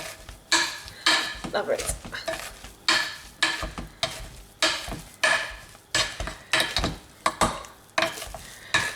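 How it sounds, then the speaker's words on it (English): Potatoes mashed with butter and milk in a pot, the masher striking the pan in a steady rhythm of loud, close scrapes and thuds, with a brief spoken remark near the end. "I'm just going to mash these together now"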